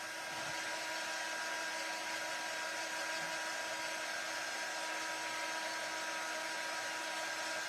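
A handheld dryer blows steadily to dry paint, giving a constant, close whirring hiss that holds at an even level from start to finish.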